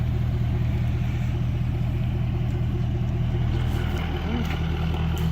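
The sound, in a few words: car driving into the shop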